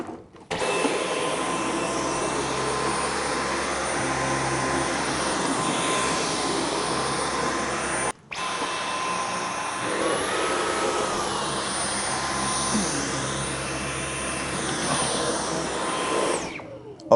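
Dyson V11 cordless stick vacuum running on auto mode, a constant loud motor whine with steady airflow hiss that briefly cuts out midway, then resumes and keeps running alone until it switches off.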